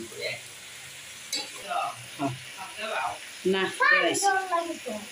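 Garlic and ginger paste sizzles and fries in a pan while being stirred, a steady hiss with scraping stirs, heard under a person talking.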